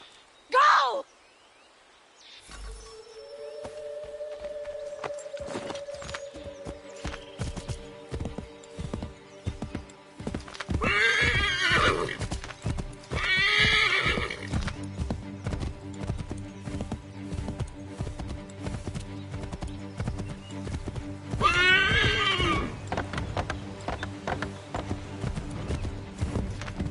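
Horse hooves clip-clop at a steady run with whinnying bursts rising and falling over a layered game soundscape of drones and music, Assassin's Creed 3 setting, loud and close throughout.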